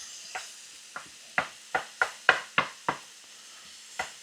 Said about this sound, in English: we're just gonna saute these, which means we're gonna make it so they're nice and soft